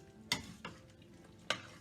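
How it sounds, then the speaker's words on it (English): A spoon scrapes through hamburger soup with beef bouillon in a cooking pot, three quiet sharp strokes spaced apart over a faint simmering sizzle, with no voices. "Let's stir that around while it's still in the process of cooking."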